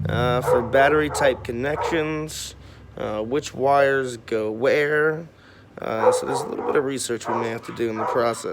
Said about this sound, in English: Excuse my dog's barking, by the way.